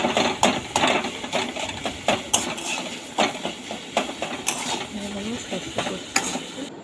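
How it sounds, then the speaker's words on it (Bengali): A spoon stirs salt and ginger-garlic paste through tomatoes in a pan while preparing pomfret fish curry, with repeated close scraping and clinking strokes in a steady rhythm over a light sizzle, loud and continuous. "একটু নুন আদা রসুনের পেস্ট দিয়ে ভালো করে নেড়ে নিতে হবে"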